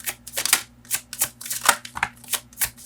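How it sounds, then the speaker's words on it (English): Tarot cards being shuffled by hand, a run of quick riffling, slapping bursts in an uneven rhythm, close and fairly loud, with no talking. "I've been shuffling."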